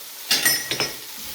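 Ham browning in a frying pan, with a couple of quick clinks and stirring scrapes of a utensil against the pan over a soft sizzle, close and fairly loud, with no talking.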